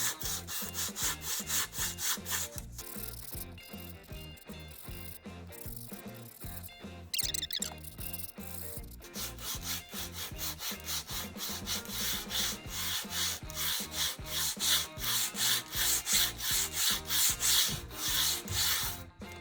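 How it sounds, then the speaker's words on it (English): Sandpaper rubbed back and forth along the freshly cut edges of a small wooden crossbow bow, a steady close run of rasping strokes that goes on without pause and without any voices. "it is time to take some sandpaper and sand down the edges that we have just cut"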